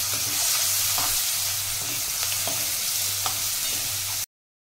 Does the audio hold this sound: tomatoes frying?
yes